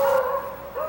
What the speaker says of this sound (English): Roscoe and Flash, Delmarva's most celebrated beagles, are 25 months old and doing what comes naturally